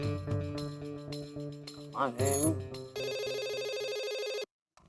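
A telephone rings during a domestic call, a repeating electronic ringtone with steady harmonic tones that runs loud for about a second and a half before cutting off. Background music and a brief voice come before it.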